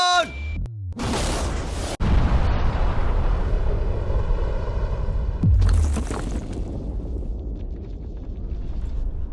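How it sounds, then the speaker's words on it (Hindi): A huge explosive blast from a safe being blown up erupts after a brief pause, a loud broadband roar that rumbles and slowly decays, with a second burst of debris noise midway. "लेकिन ये एक असली धमाका है"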